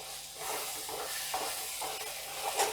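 Lentil filling being stirred in a wok over a medium flame, with a soft steady sizzle and scraping spoon strokes close by, a few louder clinks near the end.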